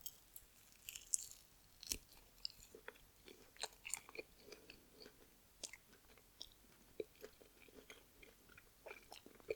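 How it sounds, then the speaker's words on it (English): Lemon pepper chicken wings are bitten and chewed close up, with crisp crunching and wet chewing arriving in irregular bursts over quiet, without any talking. "Let's eat some wings"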